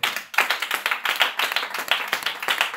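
A church congregation claps in acclamation, fast rhythmic hand claps in a dense steady beat from many people, loud and sustained throughout, with no talking.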